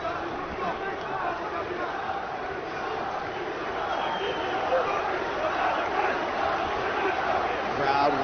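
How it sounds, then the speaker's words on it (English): The arena crowd at a UFC 242 fight between Islam Makhachev and Davi Ramos roars steadily as a continuous mass of cheering that swells slightly toward the end, heard under a commentator talking. "Crowd once again vocal in its support of Ислам Махачев."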